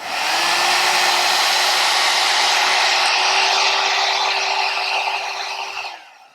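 An Alan Truman blow brush hair dryer runs on its warm setting with a steady, loud rushing whoosh of air and a faint motor whine, holding evenly for several seconds before powering down.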